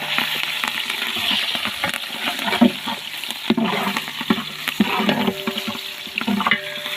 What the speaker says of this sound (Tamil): நான் அப்படியே கிண்டிக்கவா?